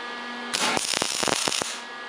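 Harbor Freight MIG 170 welder tack welding, heard as a short burst of crackling, sputtering arc about a second long over a faint steady hum, close by and with no voices.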